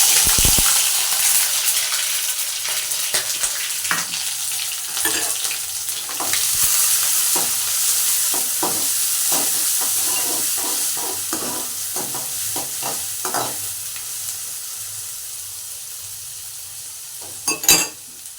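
Garlic hits hot oil already crackling with cumin, mustard and fenugreek seeds, a loud, dense sizzle that eases gradually, with scattered stirring clinks and a sharp scrape near the end.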